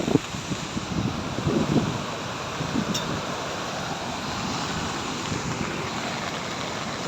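Strong, rushing water current pouring through a dam, carrying floating tree debris, a steady loud roar with broadband wash throughout and no talk.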